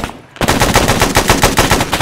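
Loud machine gun fire in a multiplayer war video game breaks in after a brief quiet moment, then keeps going as a fast, steady stream of rounds for nearly two seconds.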